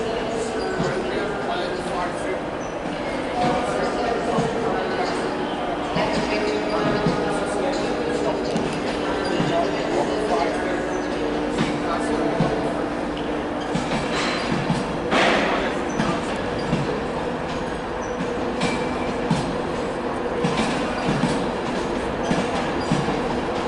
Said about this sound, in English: departing now is 82220. It's a Virgin Trains East Coast service from Edinburgh to London King's Cross